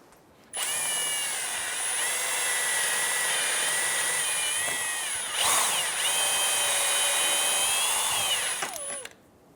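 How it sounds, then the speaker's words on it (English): Power drill fitted with a larger bit boring out the plastic of a rear ABS speed sensor on a 2008-2013 Nissan Rogue: a close, loud, steady whine that dips briefly midway, then resumes before stopping abruptly. "We're going to step it up to a little bit larger of a drill bit and remove more of that plastic."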